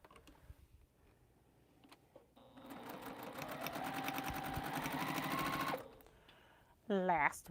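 A sewing machine runs steadily while stitching a quilt block seam. Soft handling sounds come first, then a sustained rhythmic whirring of about three and a half seconds, and a brief voice follows at the end.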